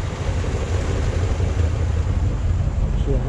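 A 1964 Chevrolet Corvette convertible with its matching-numbers 327 V8 runs at a steady idle, a loud low rumble that stays even throughout, with talk over it.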